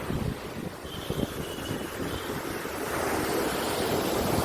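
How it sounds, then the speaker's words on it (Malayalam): Surf rolls in at Varkala beach on the Kerala coast, a steady roar of crashing waves with gusts of wind noise, building slightly louder toward the end, with no voices. "നല്ലതുപോലെ ആർത്തട്ടഹസിച്ച് വരുന്ന തിരമാലകൾ"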